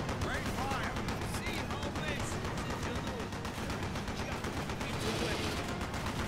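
Sustained enemy gunfire in Call of Duty: Black Ops during the Vorkuta campaign mission, continuous rapid shots forming a dense, loud barrage throughout.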